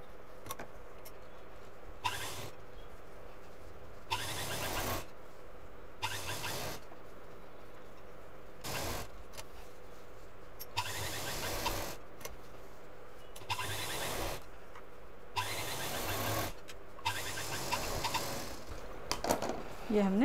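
A sewing machine stitches the seams of a homemade shoulder bag along three sides, running in several short bursts of whirring with brief pauses between them, close and steady.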